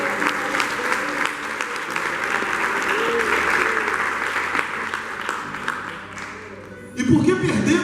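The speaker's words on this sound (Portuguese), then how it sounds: "Você pode aplaudir o Senhor?" A congregation at an intercession seminar applauds in a sustained, dense wash of clapping that slowly fades, then a voice cuts in near the end.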